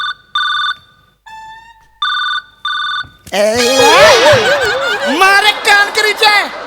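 A mobile phone ringtone plays on a comedy stage show: several bright, evenly spaced bursts of ringing, loud and clear, then giving way to laughter and animated talk.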